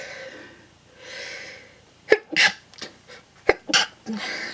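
A few breathy, sharp bursts of a sneeze-like expulsion, close and moderately loud, after quiet breathing.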